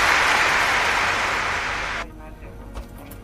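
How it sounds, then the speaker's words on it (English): Applause on a live football commentary call-in show for Man United v Chelsea: a dense wash of clapping that cuts off abruptly after two seconds, followed by a quiet background. "We need to applaud you."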